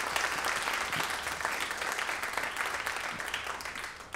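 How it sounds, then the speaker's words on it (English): An audience at a documentary film festival pitch event gives a round of applause for the filmmakers, dense steady clapping from a large crowd, even and sustained from start to finish. "Can we have another round of applause, please"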